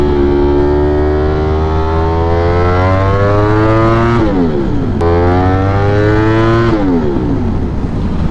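Motorcycle engine held high in the RPMs in first gear, revving loud and steady with pitch rising, dropping sharply around four seconds, climbing again, then falling once more near the end as the throttle is floored and released.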